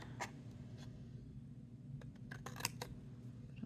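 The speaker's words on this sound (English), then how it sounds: "I'm just gonna trim that off and we'll see if it works" Scissors trimming paper for a handmade note holder pocket, a faint scattering of quick snips and crisp cuts, clustered near the end, over a low background hum.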